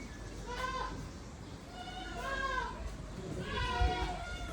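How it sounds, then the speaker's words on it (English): Goats bleating at a small animal park or farm in Port Edward, South Africa, with several wavering calls rising through the clip over a background of people talking. "Some goats."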